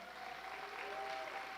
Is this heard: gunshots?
no